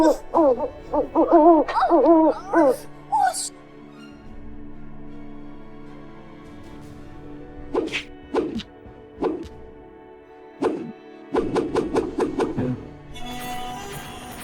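An owl hoots in a run of repeated calls near the start, loud and close, followed by a long quiet stretch and then scattered thuds and knocks later on.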